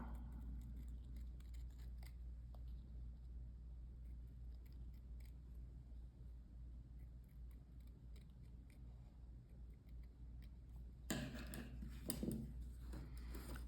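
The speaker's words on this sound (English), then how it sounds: "Then I'm going to come in and cut out my circle." Scissors cut out a fabric circle for a plushie, producing faint, quiet snips and soft rustles of cloth that grow briefly louder near the end over a low background hum.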